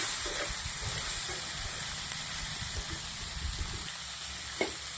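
Steady sizzling and hissing fill the pan as spiny gourd pieces fry with turmeric, while a spoon stirs with soft, scattered scrapes underneath.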